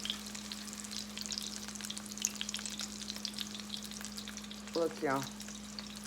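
Crawfish corn fritters sizzle steadily in hot oil, a soft, continuous frying crackle under a constant low hum, with a person briefly talking near the end.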